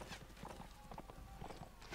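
Horse hooves clip-clopping in the game Mount & Blade: Warband, a fairly steady run of soft, close thuds lasting about two seconds with no talk over them.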